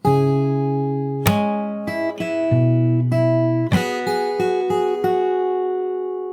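Fingerstyle acoustic guitar playing a section of a song, plucked bass notes and chords ringing out in a gentle, unhurried pattern with a few sharper strums, close and alone without talk.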